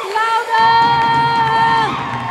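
At a worship gathering, a congregation lets out a loud burst of shouting and whooping, with sustained raised voices ringing over a dense crowd roar and only faint clapping underneath.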